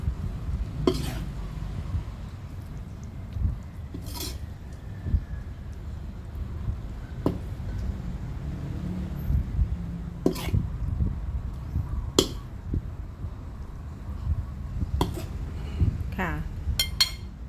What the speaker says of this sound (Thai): ต่อไปก็จะตักขึ้นเสิร์ฟเลยค่ะ